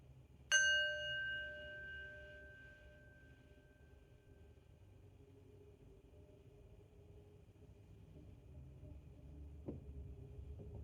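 A single bell struck once to open a bedtime meditation, its bright tone ringing out clearly and fading slowly over several seconds into quiet room noise, with a faint knock near the end.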